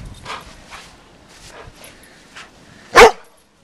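Dogs playing in deep snow during the 2011 Chicago blizzard give a few short scattered yips and whines, then one loud, sharp bark near the end, close by.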